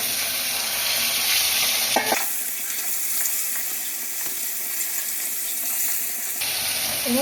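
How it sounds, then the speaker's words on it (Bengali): Peas and potato stirred into a tomato masala frying in oil for Kolkata-style ghugni give a dense, steady sizzle with a short scraping clatter when the ingredients go in, close and fairly loud. "এবার আমি ঘুগনি আর ওই আলুটা ঘুগনি মটর আলুটা দিয়ে দেবো"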